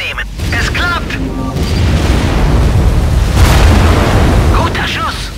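Tesla rockets exploding in a Ratchet & Clank PS4 game: a loud, sustained run of booms and rumbling blasts fills the clip, with game voices speaking over the top.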